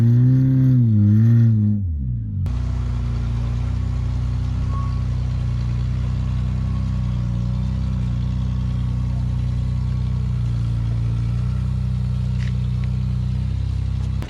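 A lightweight rock crawler under 2,500 pounds with a very small engine works a rough rock course at a national competition. A loud, close engine drones steadily with slight rises in revs throughout, after a brief voice at the start.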